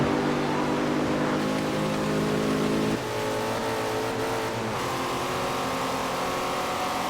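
A muscle car engine in the Forza Horizon racing game, a loud sustained growl whose pitch steps up with gear changes as it accelerates, heard close with no talk.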